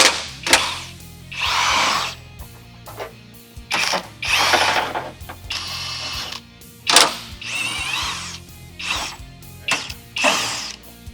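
A power tool zips bolts out of a Toyota Tacoma truck bed in repeated short bursts, each a rising, whirring spin, close and loud with brief gaps between.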